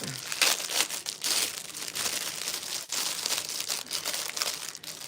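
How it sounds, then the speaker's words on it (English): Black-and-gold wire swirl earrings are pulled out of crinkly paper, giving close, continuous crackling and rustling with sharper crinkle bursts throughout. "let me take it out of the paper"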